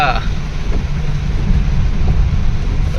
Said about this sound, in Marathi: आता पाऊस बघ एवढं येलो